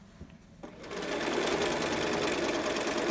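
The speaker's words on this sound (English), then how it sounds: "Sewing along now the other edge." Sewing machine stitching along the edge of a large adult fabric mask, starting after a few soft handling taps and settling into a steady, close, continuous whirring run of stitches.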